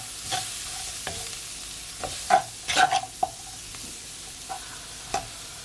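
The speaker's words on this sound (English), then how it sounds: "I'm gonna mix it all in." A spoon stirs seasoning into creamy jerk chicken rasta pasta in a pot on low heat, giving a series of scrapes and clacks against the pan over a quiet sizzle, with no talking.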